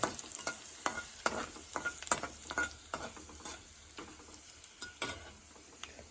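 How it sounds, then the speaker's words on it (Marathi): Dried red chillies sautéing in a pan for idli upma, a steady close sizzle broken by frequent scraping stirs and small ticking clicks of a spoon against the pan. "आणि या थोड्या सुक्या मिरच्या पण थोड्या घालायच्या आहे आणि थोडं असं परतून घ्यायचं आहे"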